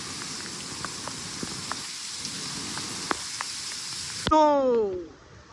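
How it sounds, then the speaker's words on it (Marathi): Heavy monsoon rain pours steadily at Jivdhan fort, a dense continuous hiss with scattered drop impacts, ending abruptly as a louder voice cuts in near the end. "पाऊस खूप जोरात चालू आहे आता गडावरती"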